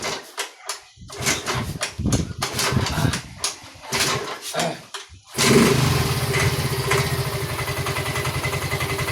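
Yamaha Mio Soul 125 scooter that is hard to start, several sputtering cranking attempts with gaps before the engine catches and settles into a steady, close idle that continues to the end.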